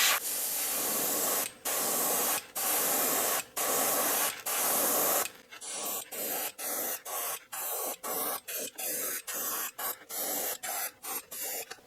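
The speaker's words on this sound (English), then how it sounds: "I love paints that come ready to airbrush right out of the bottle." An airbrush sprays Testor's Aztec opaque black paint onto a handmade topwater fishing lure in close, hissing bursts, first several longer sprays, then a rapid run of short, evenly spaced pulses.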